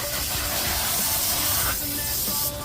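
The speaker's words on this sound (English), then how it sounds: "I'm spraying everywhere" Water sprays hard onto a motorcycle jacket in a garage to soak it, giving a loud, continuous close-up hiss that softens briefly and then stops near the end.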